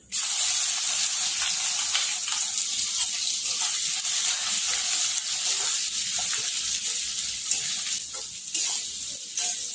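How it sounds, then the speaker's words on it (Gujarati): Chopped onions fry in hot oil with whole spices such as bay leaf, star anise, cloves, cardamom, peppercorns and cinnamon, giving a loud, close, continuous sizzle and hiss with occasional stirring scrapes. "હવે શેકા દઈશું ડુંગળી આપણે થોડી વાર"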